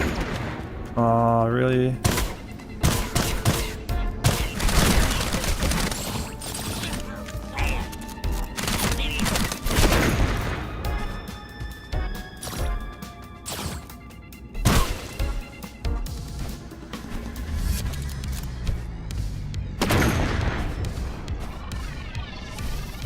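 Enemy gunfire in the shooter Sulfur, scattered shots and bursts cracking at irregular intervals, some loud and near, others more distant, mixed with impacts while someone talks briefly.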